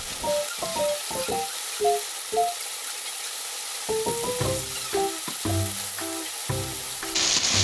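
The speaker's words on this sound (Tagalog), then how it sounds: "iiwalan natin siya dyan, tapos hihintayin natin siyang maprito" Chicken pieces for creamy garlic chicken frying in a pan, a steady close sizzle with intermittent tonal clinks and scrapes from handling, and a brighter hiss surging at the very end.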